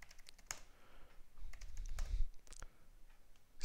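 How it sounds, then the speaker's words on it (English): Keys clatter on a computer keyboard as an admin username and password are typed into a GlassFish Server setup on Ubuntu 15.04, with irregular quiet clicks, a few sharper taps and a soft low thump near the middle. "let us type the name admin and let us give the new admin password"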